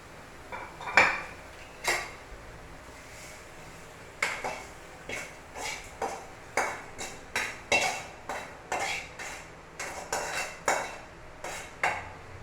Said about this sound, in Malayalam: ഈ പാത്രത്തിലേക്ക് നമുക്ക് കോരിയിടാം